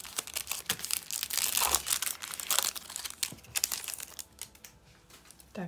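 A large plastic parcel bag for a small AliExpress order is crinkled and rustled continuously, with dense, bright crackling bursts close by that ease off toward the end.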